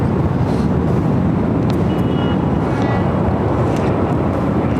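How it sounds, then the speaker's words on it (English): Jet aircraft at Los Angeles International Airport roar loud and close in an unbroken, broadband rush that fills the whole stretch, with no voices over it. "we'd rather have the planes louder than Kevin."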